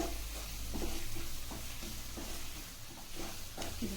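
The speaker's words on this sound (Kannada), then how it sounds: "ಇದು ಚೆನ್ನಾಗಿ ಈಗ ಫ್ರೈ ಮಾಡ್ಕೋಬೇಕು" Chili powder frying in a pan for a boiled egg fry, giving a steady close sizzle with soft scraping stir strokes at intervals throughout, no voices.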